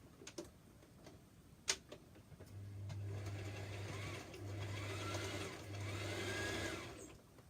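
A sewing machine stitches a top in three short, fairly quiet runs over a few seconds, preceded by faint clicks and handling noise.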